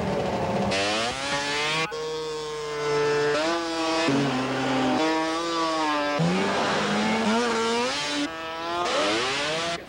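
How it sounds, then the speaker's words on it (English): Snowmobiles drag racing on a frozen Wisconsin lake, engines screaming loud and close with rising, falling pitch as the sleds rev and accelerate in successive runs, a continuous high-revving roar with no talk. "Perfect conditions to go drag racing snowmobile."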